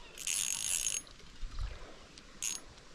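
An ultralight fishing reel's drag gives out short bursts of rapid clicking as a smallmouth bass pulls line on a creek, with a faint low thump between them.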